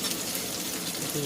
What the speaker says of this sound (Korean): 이 으깬두부 부침을 지져내면 되겠습니다